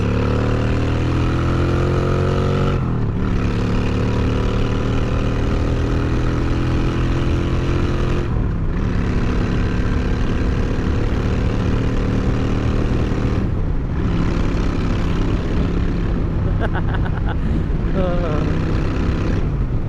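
A loud motorcycle engine runs close by for the full stretch, its steady drone rising in pitch with each gear run, then dropping sharply at the shifts around three, eight and thirteen seconds.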